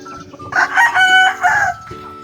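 A gamefowl rooster raised for cockfighting crows loudly and close by, one full drawn-out cock-a-doodle-doo call over faint farmyard background.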